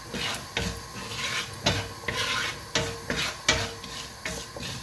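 Sliced onions and potatoes fry in oil with popped mustard seeds, a close sizzle broken by regular rhythmic scraping strokes of a spoon stirring the pan, with no speech.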